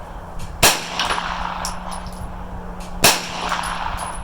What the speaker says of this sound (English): Shooting with a 9mm rifle.